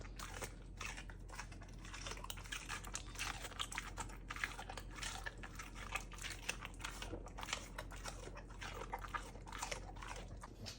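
Steady crunchy chewing of raw bell pepper close up, a continuous run of crisp bites and crackles with no talking.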